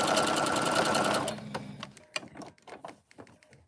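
A sewing machine stitches fabric in a fast, steady mechanical whir for about a second, then slows into a handful of separate clicks and thumps as the needle is stepped by hand, quieter toward the end.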